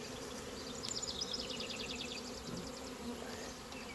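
A steady, low drone of many honey bees buzzing inside an open hive close by, continuous and fairly quiet, with faint higher whirring over the hum.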